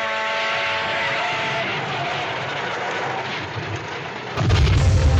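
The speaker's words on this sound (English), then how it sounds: "you want an explosion, you just blow something up" An explosion in the film North by Northwest starts as a loud, sustained roar and ends in a heavy low boom, with no voices over it.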